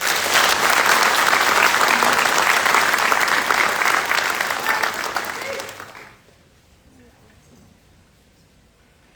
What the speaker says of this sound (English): Please join me in a round of applause for the winning squad of the drill and ceremony competition.